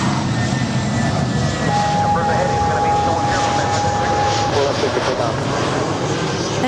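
Delta Airlines Airbus A319 jet airliner at Los Angeles airport, a steady loud broadband engine roar running throughout, with radio chatter and talk over it.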